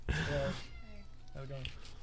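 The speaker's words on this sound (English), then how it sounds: "the cat is very mad about something" An angry cat lets out a loud, drawn-out meow, followed by a second shorter, quieter meow, heard up close indoors.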